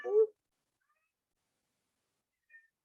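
Cat giving one short, close meow at the start, followed by near silence and a faint, brief second chirp a couple of seconds later.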